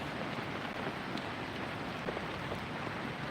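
Heavy afternoon rain pours down beside the Vamanapuram river, a dense, steady hiss that fills the air evenly and stays constant throughout, with no voices.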